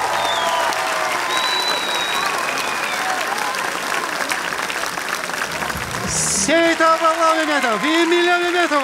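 Warm audience applause at a Crimean Tatar gala concert, a dense steady wash of clapping that fills the hall, giving way near the end to a voice speaking over the fading crowd.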